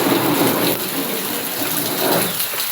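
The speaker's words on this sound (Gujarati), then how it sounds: "ફૂલ વરસાદ આવી ગયો છે।" Heavy rain falling in a steady, loud, close wash of broadband hiss with no pauses or voices.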